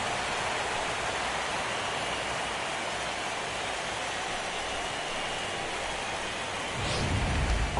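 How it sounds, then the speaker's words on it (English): Steady rain in the baseball game MLB The Show 17 hisses as a dense, constant wash of noise, with a deeper low rumble swelling near the end. "And Dan, when it comes to pitching in the rain, what changes?"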